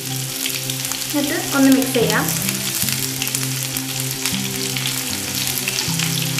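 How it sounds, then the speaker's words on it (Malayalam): A handful of spring onion whites hits hot oil for a restaurant-style gobi manchurian, hissing into a loud, steady sizzle with a brief crackling burst, while a voice speaks over it. "എണ്ണ ചൂടാകുമ്പോഴത്തേക്ക് ഞാനിതിലേക്ക് ഒരു പിടി സ്പ്രിംഗ് ഒനിയൻ്റെ വൈറ്റ്സ് ഇടാൻ പോവുകയാണ്"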